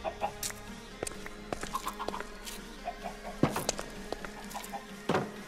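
Chickens cluck in the Minecraft RLCraft game: short, scattered clucks and squawks repeat at moderate volume over a soft background bed.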